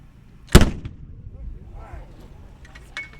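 One sharp, loud artillery gun shot, a single report with a brief rolling tail that fades into faint background noise.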